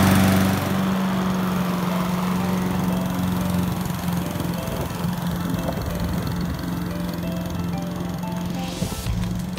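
A gas lawn mower starts and runs steadily up close, its loud engine drone holding constant for nearly ten seconds as the grass is cut at maximum deck height.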